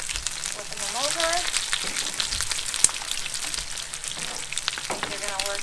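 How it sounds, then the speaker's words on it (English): Conch fritters made with leftover mashed potato sizzle steadily in a frying pan, with a few scrapes and taps as they are flipped, a faint voice briefly in the background. "And I'm doing the conch fritters. Flipping them over."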